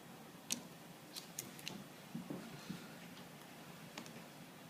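Scissors snipping out vinyl decal pieces for a vending machine, a scattered series of small, soft, close clicks and snips in a quiet room.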